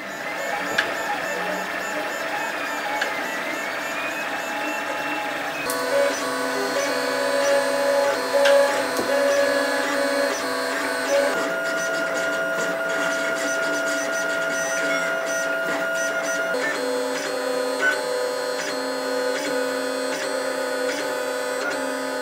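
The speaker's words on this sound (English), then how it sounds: "So I'll get the next piece printed" A 3D printer runs steadily while making a part for a Hulkbuster helmet, its stepper motors whining in changing tones and shifting pitch every few seconds, close and constant with no speech.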